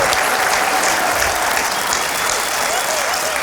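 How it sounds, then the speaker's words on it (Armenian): Sustained, steady applause from a stand-up comedy audience fills the space, dense and even throughout with no pauses. "Եկեք ջերմ ծափարենք"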